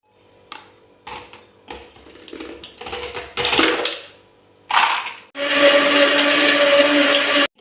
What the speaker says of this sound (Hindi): अब हम इसको ब्लेंड कर लेंगे।